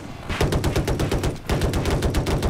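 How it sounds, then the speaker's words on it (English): Rapid bursts of gunfire volleys in a Battlefield helicopter match, a video game: loud, dense repeated shots in two sustained runs with a brief lull between, no talk over them. "Lots of volleys."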